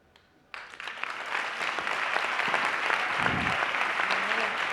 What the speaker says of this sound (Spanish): otro fuerte aplauso para Manuela Carmena.